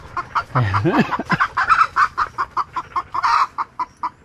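Chickens cluck in short, regular bursts close by, with a brief rising squawk early on and a steady pecking rhythm of calls continuing to the end.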